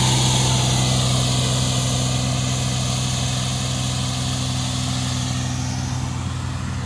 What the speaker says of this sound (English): That is the fairway mower.